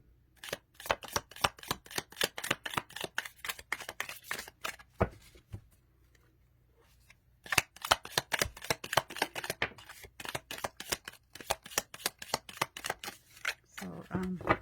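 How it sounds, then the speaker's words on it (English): A deck of cards riffle-shuffled by hand, a rapid run of crisp close clicks and flutters in repeated bursts, with a short pause between rounds and light handling at the end. "I'll show you how I shuffle them really quick."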